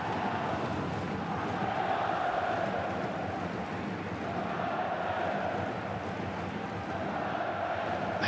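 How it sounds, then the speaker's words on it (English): A football crowd behind the goal at an AFC Champions League Elite match between Sanfrecce Hiroshima and Gangwon FC roars steadily, a dense and continuous stadium wash with no clear peaks, heard loud and close. "The substitute orchestrating the crowd behind the goal."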